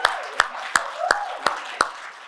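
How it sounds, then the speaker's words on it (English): Audience at a sales enablement summit gives a short round of applause in a hall, heard as six sharp, evenly spaced claps about a third of a second apart, fairly close with a soft room wash between them. "All right, round of applause for our OG enablers leading the way."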